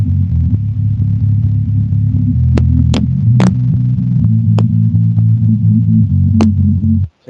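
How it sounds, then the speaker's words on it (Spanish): A song passed through a low-pass filter leaves mostly the bass line, a loud steady low throbbing with sustained deep notes and a few faint thin clicks, then it cuts off abruptly at the end. "Se escucha prácticamente solo el bajo."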